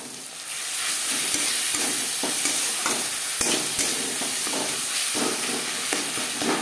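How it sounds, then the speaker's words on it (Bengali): A pan of salt, turmeric, onion and tomato is stirred for a fish curry, sizzling loudly and steadily while a spoon scrapes through the mixture in repeated strokes, with no voices. "লবণ হলুদ পেঁয়াজ টমেটোর সাথে বেশ ভালো করে মিক্স করে দেবো"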